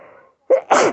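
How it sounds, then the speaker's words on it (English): A single sneeze, a short inhaling catch followed by a sharp, loud burst, close to the microphone after a soft breathy moment. "I'm going to sneeze."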